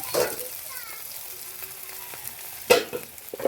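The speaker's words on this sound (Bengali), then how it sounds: "এদিকে এগুলো ভাজা হয়ে গেছে মশলাগুলো এখন আমি পালং শাকটা দিয়ে দেবো" Spinach dropped into a pan of already-fried spices, a steady low sizzle with a sharper crackling burst near the end as the greens hit the hot oil.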